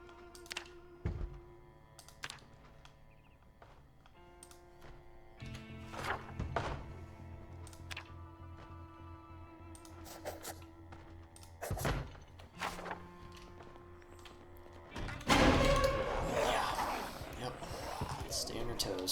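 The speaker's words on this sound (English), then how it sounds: "I do hear a zombie at the window." A zombie bangs at a window in the video game Project Zomboid: scattered, dull thumps and knocks land irregularly several times, moderately loud against a low game background, with a voice talking quietly at times.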